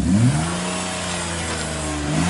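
An old, cheap BMW engine runs cold just after starting and revs up and down at close range. It is fairly loud with a swelling rise near the start and again at the end, and no voices.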